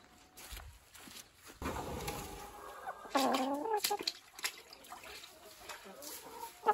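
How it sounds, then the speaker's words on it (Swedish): Hens cluck and call inside a henhouse on a Swedish poultry farm at Sundhult, kept indoors during bird flu, with close, irregular clucks and a rising squawk amid footsteps and faint rustling, a person talking briefly nearby. "hönorna ska vara inomhus så att de inte blir smittade av vilda fåglar helt enkelt"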